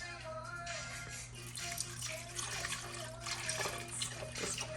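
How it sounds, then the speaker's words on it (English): Milk pours in a steady stream into a deli cup, filling it halfway for a strawberry cream ice treat. A soft, continuous liquid rush sits over a low background hum. "now you're gonna add 2 cups of milk"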